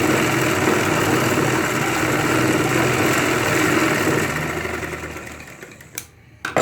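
Close, loud sewing machine running continuously while stitching ladies' pants, a steady mechanical hum that winds down near the end, followed by a couple of brief knocks.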